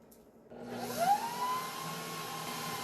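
An electric hand mixer whirs through cheesecake batter, starting after a brief quiet moment and holding a steady, fairly quiet drone.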